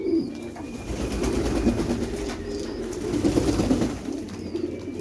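Pigeons in a breeding loft coo and shuffle close by in a steady, continuous murmur, with a few faint chirps high above and no talk.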